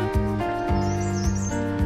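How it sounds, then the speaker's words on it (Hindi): Birds chirp and call on a green hillside near Islamabad, a high, wavering twitter heard alone above a steady low tonal hum with periodic dips. "परिंदों की चहचहाहट।"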